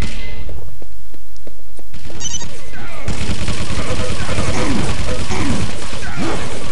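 Rapid gunfire and explosive thuds from the video game Quake 3 Arena, a loud, dense barrage of shots and impacts under overlapping game noise.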